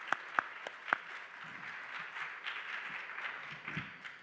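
Modest audience applause for speaker Ricardo Haye at a conversatorio, opening with a few sharp individual claps before settling into softer, scattered clapping that fades toward the end.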